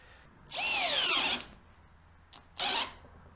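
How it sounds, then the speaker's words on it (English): Tacklife 12V cordless drill run at speed 2 in two short bursts, a whining motor rising and falling in pitch for about a second, then a brief pause and a second shorter whir, close up. "The Tack Life, we're going to put it on speed 2 to start."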